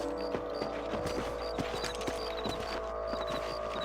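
Horses walking in the Red Dead Redemption western game, hooves clip-clopping in an irregular steady gait under a constant low ambient bed, with faint jingling tones scattered throughout.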